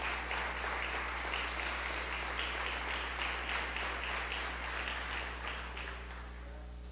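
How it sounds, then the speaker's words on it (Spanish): A church congregation applauds during a Spanish-language evening service, a steady wash of many hands at moderate distance that keeps up evenly before easing slightly at the end, with a constant low hum underneath. "dele un aplauso al Señor en esta hora"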